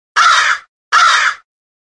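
Two loud, close crow caws, each about half a second long with a short pause between them, standing alone against silence.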